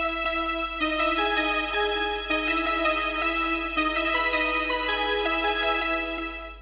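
Synthwave synth pluck melody with a boosted bright high end, two layered plucks playing together in a steady, continuous and fairly full line.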